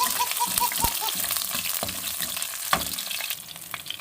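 Garlic frying in a pan gives a close, continuous hiss and crackle with a few sharp utensil knocks and faint tonal beeps at the start, no talk.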